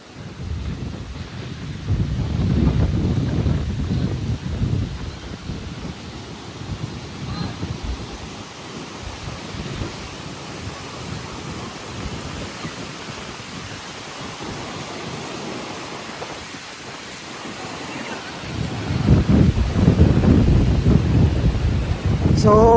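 Heavy rain and gusting wind roar on a beach on Boracay island in the Philippines, with surf rumbling under the storm noise and louder buffeting against the microphone near the start and end.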